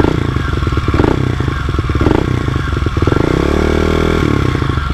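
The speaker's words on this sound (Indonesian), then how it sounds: "kalau nyala langsamnya tinggi dulu beberapa detik baru dia turun." Kawasaki KLX 250 motorcycle engine idling close by, running at a raised, slightly fast idle with a steady throbbing pulse, then the revs drop and settle into a lower, even idle toward the end.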